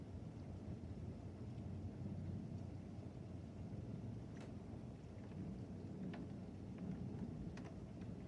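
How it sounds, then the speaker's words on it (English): Constant thunder rumbles through a morning lightning storm on July 1, 2020, a deep continuous roll with steady rain hissing underneath and a few sharp crackles breaking through near the middle and end. "there is constant thunder"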